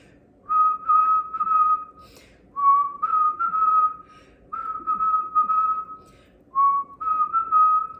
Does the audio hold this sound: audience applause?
no